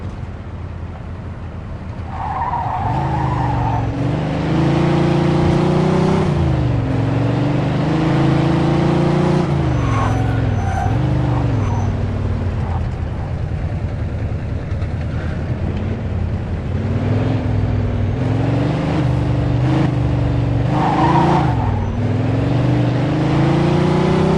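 In the video game Mafia II, a car engine drones steadily while the car is driven, its pitch rising and falling as it revs and shifts, loud and close with no talk over it.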